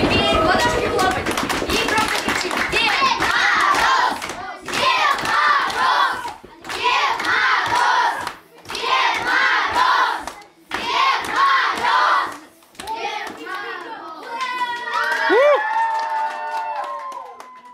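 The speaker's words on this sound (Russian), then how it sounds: "начинаем ножками топать. Ножками. Теперь ладошки хлопать." Children stomp their feet and clap their hands in rhythmic bursts, loud and close, alternating with loud group shouting and chanting, then a short stretch of clapping under talk.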